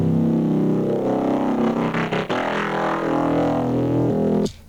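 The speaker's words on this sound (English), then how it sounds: "This LFO of the cutoff, so it sort of swells up and then goes back down." Synth with an LFO sweeping its filter cutoff, a loud, buzzy sustained tone that swells brighter and then darkens back down, ending abruptly after a final bright burst.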